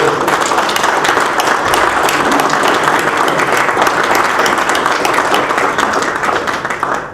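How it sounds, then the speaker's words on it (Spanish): Loud, sustained applause from an audience at a business breakfast event honouring award-winning companies, a dense wash of clapping that holds steady for several seconds before easing off at the end. "Así que pido un aplauso para ellos."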